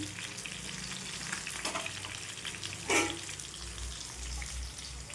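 Crispy fried snack pieces sizzle steadily in hot oil in a pan as they are turned and fried on both sides, a continuous close frying hiss with a brief louder burst of spatter midway.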